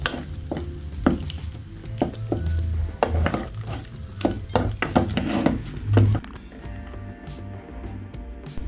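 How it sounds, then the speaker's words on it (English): Soft boiled potatoes mashed with fried onions in a pot for ugali: a steady run of dull knocks and scraping utensil hits against the pot, close and fairly loud, thinning into quieter background near the end. "Mash it to your satisfaction"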